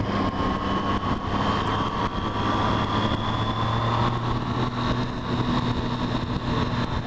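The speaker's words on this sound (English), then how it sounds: "I honestly would buy this bike just from the sound it makes alone." A 2014 Triumph Street Triple R motorcycle engine runs close by at a steady idle, a constant loud throb with a faint whine above it and no talk.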